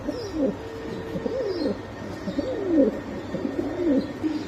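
Several pigeons, including Damascene pigeons, coo repeatedly in soft, rolling, overlapping calls at a pigeon market, close and continuous against a low background murmur.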